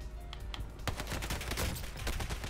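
Rapid gunfire in Warzone, a burst of automatic shots crackling at moderate volume for a couple of seconds with no talk over it.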